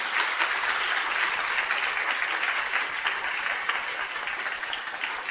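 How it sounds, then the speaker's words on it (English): An audience claps after a climate investing panel session in Berkeley, a dense, steady round of applause from a sizable crowd that holds for several seconds and eases slightly toward the end. "Let's give everyone a round of applause."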